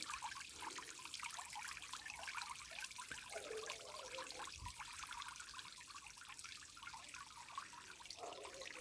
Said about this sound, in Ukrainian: кожному подобається, коли так дзюрчить водичка.